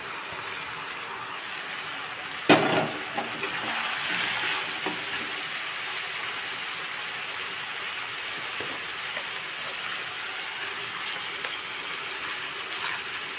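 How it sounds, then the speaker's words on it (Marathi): Mixed vegetables frying with salt in a pan, a steady broad sizzle with a sharp clank of a spoon early on and a few light stirring scrapes, close and without speech. "आपण सर्व मिक्स भाजी टाकणार आहे आणि मीठ टाकून छानपैकी फ्राय करणार आहे."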